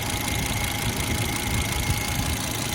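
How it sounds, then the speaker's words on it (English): A turbocharged car engine idles, humming steadily up close, with a fine, fast ticking of the fuel injectors running through the steady mechanical drone. "The only thing you hear is the injectors."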